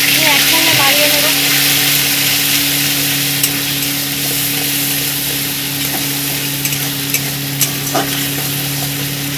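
Ginger and garlic paste gets stirred in a hot frying pan, a steady loud sizzle with scraping under it and a low constant hum in the background, no voice heard.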